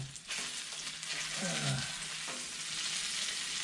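Teriyaki-glazed salmon fries on a Blackstone griddle, giving a steady close sizzle with a brief scraping flip of the fillet partway through, and no talking.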